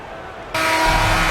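Crowd cheering in an NBA basketball video game, a broad roar that swells in abruptly and stays loud, with commentary over it.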